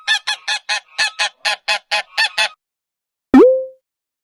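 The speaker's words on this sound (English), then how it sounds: "Goose." A goose on a farm gives a quick run of about ten sharp, nasal honks in an even rhythm. After a short pause comes one louder, longer honk, with no talking.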